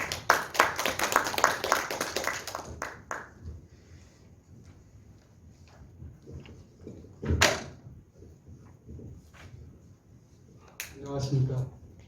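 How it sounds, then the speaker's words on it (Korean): At a Cheongju forum on street-tree policy, an audience gives a burst of dense clapping for the next speaker. It lasts about three seconds, then sparse room noises and a few thuds follow, and a voice begins speaking at the end. "박수로 모시겠습니다."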